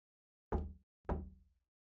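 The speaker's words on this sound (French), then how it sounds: "J'ai alors toqué à la porte" Two separate knocks on a toilet cabin door in a Sims 4 game, each a short, resonant thud spaced about half a second apart against silence.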